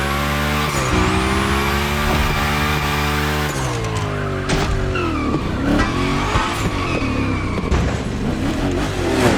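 A car in the video game The Crew Motorfest drifts with tires squealing, its engine holding a loud steady note before revving and shifting, with long screeching slides and skids that continue close and loud to the end.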